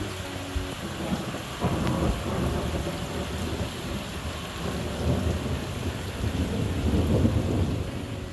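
A thunderstorm rolling in over rural New Zealand farmland, steady heavy rain hissing with low rumbling thunder building beneath it, continuous and fairly loud with no voices.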